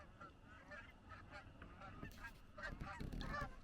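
Geese or ducks honking outdoors, a quick run of several faint, distant honks growing a bit louder toward the end.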